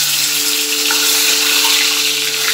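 Eggs lightly frying in a kadhai give a steady, loud, close sizzle and hiss that runs without a break, with a faint electrical hum beneath.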